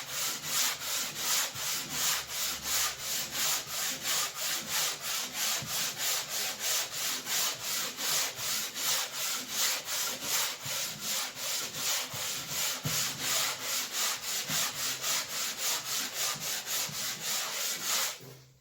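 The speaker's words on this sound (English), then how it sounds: "So we will continue to sand here for another minute until we're nice and smooth." Hand sanding of joint compound on a drywall patch, a steady back-and-forth scratchy rasp repeating in quick, even strokes for the whole stretch, close and fairly loud with no talking.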